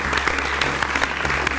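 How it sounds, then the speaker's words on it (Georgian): Brief burst of studio audience applause on a televised lie-detector quiz show, a dense, even patter of many hands clapping, loud and close, with no talk over it. "აპლოდისმენტები ბატონ გრიშას."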